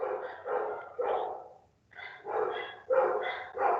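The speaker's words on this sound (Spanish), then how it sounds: "Les pido una disculpa por los perros." Several dogs bark outdoors in short, uneven bursts of yips and barks with a brief pause in the middle, moderately loud and heard with no speech over them.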